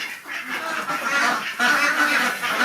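Ducks quack and chatter together in a barn freshly spread with new straw during winter, a dense, continuous overlapping chorus of nasal calls close to the listener, with chickens scratching nearby.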